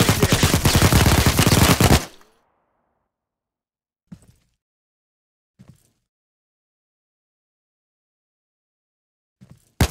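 Dense burst of rapid automatic gunfire in the co-op Android action game Recurrence, loud and close for about two seconds, then silence broken by a few short, faint impact bursts and one louder hit at the end.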